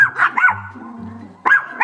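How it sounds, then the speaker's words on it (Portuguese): Small dogs, pinschers and a chihuahua, give sharp, high yapping barks close by, a quick pair early on and another near the end, with low whines between. "quando os 3 começam a latir, ela late demasiadamente também"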